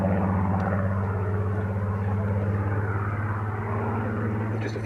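Hawker Hurricane and Supermarine Spitfire fighters fly over Cambridgeshire at a Battle of Britain commemoration, a steady droning piston-engine roar that holds loud throughout with no speech.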